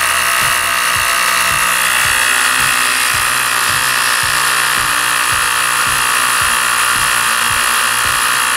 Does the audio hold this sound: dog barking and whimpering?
no